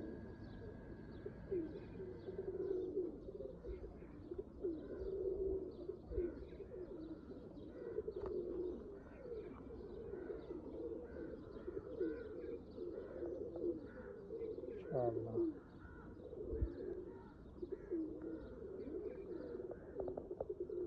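Teddy pigeons in Oman cooing continuously, soft low rolling coos repeating over a steady background with occasional chirps from other birds, moderately close but fairly quiet.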